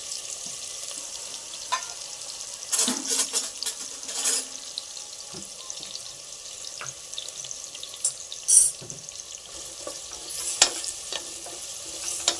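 Onions frying in a pan with ginger garlic paste just added for egg pulav, a steady close sizzle with stirring scrapes and a few brief bursts of water running from a tap.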